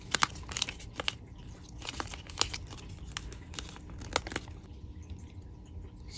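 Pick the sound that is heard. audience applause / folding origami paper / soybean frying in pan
folding origami paper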